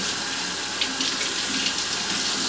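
Steady hiss and splash of running tap water rinsing a large fish fillet in a kitchen sink, close and continuous with no pauses.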